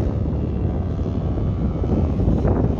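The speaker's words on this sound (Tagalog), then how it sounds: "Malakas masyado yung hangin ngayon." Strong, cold mountain wind on a road bike ride roars and buffets the microphone in a dense, continuous low rumble with no pauses.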